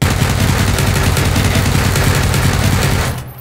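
A UMP submachine gun in PUBG empties a magazine in one loud, rapid burst of shots that runs for about three seconds and then stops.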